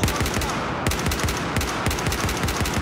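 Rapid automatic gunfire in a video game shooter, dense bursts of shots firing in quick succession, loud and close throughout.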